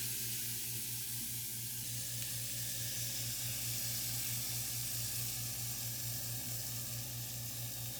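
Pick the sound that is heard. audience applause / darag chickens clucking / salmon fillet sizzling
salmon fillet sizzling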